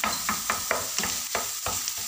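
Eggplant fries in oil with a dense, steady sizzle, broken by regular scraping stirs about every quarter second, close and clear with no talk.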